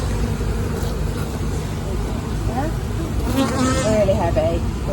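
Honeybees buzz steadily around a honey-laden beehive frame being handled at an open hive, a continuous droning hum with some louder passes near the end, while people talk nearby.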